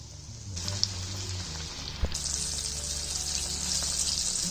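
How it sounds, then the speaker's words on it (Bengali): Coated chicken pieces deep frying in hot oil on a home stove, a steady bubbling sizzle that swells after a couple of soft knocks and keeps going loud and constant. "মাংসগুলো আমি 6 থেকে 7 মিনিট ভেজে নেব"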